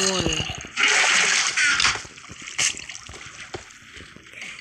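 Water splashing in Minecraft: bursts of splashy, gushing noise in short irregular spurts, mixed with clicks and faint background sounds.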